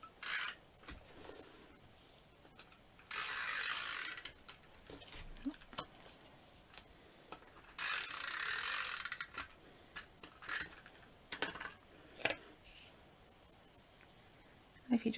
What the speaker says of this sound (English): So we'll use the snail adhesive to stick this down.